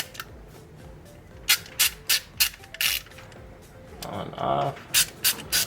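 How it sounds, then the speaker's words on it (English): A blue Matco 3/8-inch drive ratchet gives a run of sharp, close clicks in uneven bursts, with a brief rubbing stretch in the middle and a few spoken words. "Just a blue 3/8 drive. Just a blue 3/8 ratchet."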